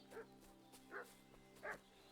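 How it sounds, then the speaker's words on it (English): A dog barks three times in Kingdom Come: Deliverance II, in short evenly spaced woofs that sound distant and muffled over a low steady ambient hum. "What's that dog making such a fuss about?"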